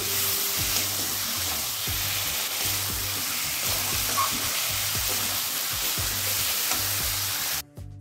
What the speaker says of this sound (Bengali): মশলার সঙ্গে আলুটাকেও কষিয়ে নিচ্ছি